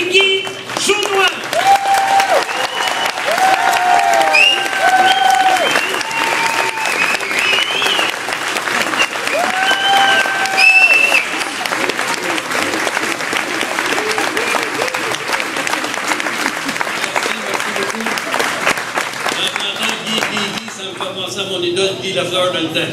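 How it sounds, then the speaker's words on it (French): An audience applauds at a grocery store reopening, sustained loud clapping lasting about twenty seconds with tonal music or chimes sounding through it, easing near the end. "faites-le leur savoir par vos applaudissements"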